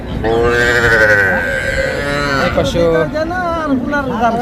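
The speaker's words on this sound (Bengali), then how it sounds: "ছোট্ট ছোট্ট পালন উপযোগী বকনা বাছুর আছে" Heifer calves moo loudly and repeatedly with long drawn-out bellowing calls, close by, amid the steady background noise of a busy livestock market at Hazratpur.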